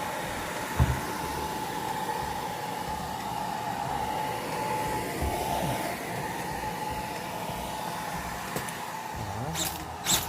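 A hair dryer blows steadily for the whole stretch, thawing a frozen flexible drain-cleaning shaft, a constant whirring rush with a couple of sharp clicks and knocks near the end.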